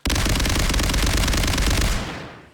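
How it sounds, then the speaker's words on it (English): Fallout 4's Rat Runners Experimental rapid-fire shotgun unloads shotgun shells in one loud, continuous burst of blasts so fast they nearly merge. The barrage stops after about two seconds and its echo trails off. "it fires shotgun shells this fast"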